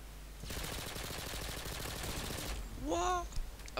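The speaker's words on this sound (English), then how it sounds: "I was just spamming bullets at him" Rapid, sustained burst of AK-47 automatic fire in Modern Warfare 2 lasting about two seconds, followed by a short rising electronic tone.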